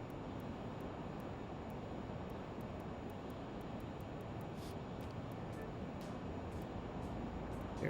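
The jet engines of a LearJet 35A in flight in Microsoft Flight Simulator 2020 give a steady, fairly quiet broadband roar with faint clicks on top, continuous throughout.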